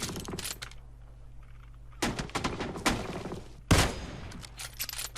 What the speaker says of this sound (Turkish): Beyler şuradan sıkıyorlar.